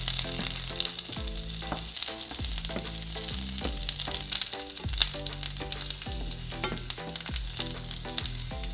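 Garlic sizzles and crackles steadily in oil in a pan, with rhythmic stirring scrapes repeating throughout, close and fairly quiet, no voices.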